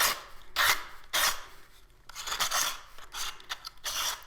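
A manual pencil sharpener grinds a pencil in rough, raspy bursts, with several distinct cranking strokes separated by brief pauses, close and fairly quiet.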